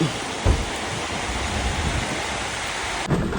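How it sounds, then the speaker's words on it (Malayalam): Heavy night rain pours in a steady dense roar, with low thunder rumbles swelling near the start and again toward the end. "ഒരു രക്ഷയില്ലാത്ത മഴയാണ് കേട്ടോ"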